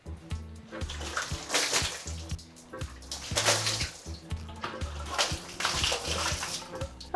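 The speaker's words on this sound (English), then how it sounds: "Now I'm just going to rinse it off with water." Water spraying to rinse a shower after cleaning, a rushing, splashing hiss that swells and fades in uneven waves, close by, with a low rhythmic rumble underneath.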